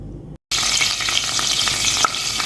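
Crushed garlic sizzles briskly in hot ghee on a gas stove, a loud, close, crackling fry with stirring scrapes, breaking off briefly right at the start before continuing steadily.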